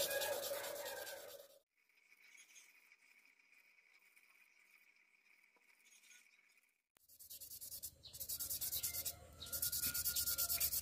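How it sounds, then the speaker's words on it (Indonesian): A stone is rubbed by hand with quiet scraping, steady gritty friction with a brief pause in the middle, then louder strokes resume. "Kita akan gosok secara manual saja ya."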